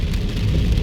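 Rain patters steadily and loudly on a car driving southbound on Nellis Boulevard in Las Vegas toward Henderson, a dense close hiss of drops with low road rumble beneath, lasting under a second.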